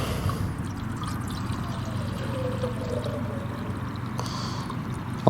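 Water poured from a carried supply to fill a container outdoors, a steady low gushing and trickling stream running continuously and fairly quietly.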